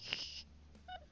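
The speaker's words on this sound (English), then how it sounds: "Gonna have to call Catherine on the phone" A telephone keypad gives a quick pair of short, bright dialing tones close up, separated by a brief pause, with no voices.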